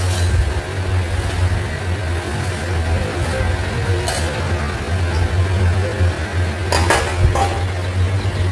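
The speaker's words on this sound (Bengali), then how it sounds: "নুনটা দেওয়ার পর আবার একটু নাড়াচাড়া করে দিতে হবে" Rice being stirred with salt in a pan for lemon rice: a spoon scrapes and clinks against the metal now and then over a steady low hum, with no talking.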